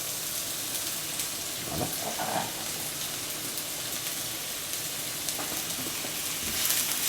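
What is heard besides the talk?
onions sweating in olive oil in a pan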